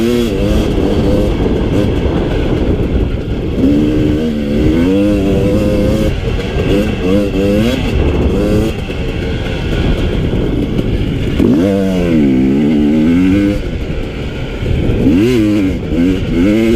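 A 2018 Husqvarna TE 250i dirt bike is ridden hard across the desert, its engine loud and close, revving up and down through rising and falling pitch sweeps with continuous wind and mechanical roar.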